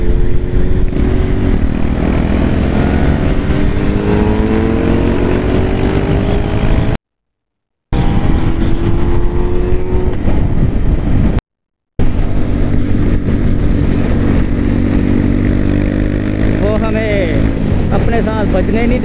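Sport motorcycles on a Sunday group ride, among them a Hayabusa and Kawasaki Ninja 650 and Ninja 1000, with a loud, continuous engine drone whose pitch climbs and falls as revs change. The roar stops twice briefly, and someone talks over parts of it.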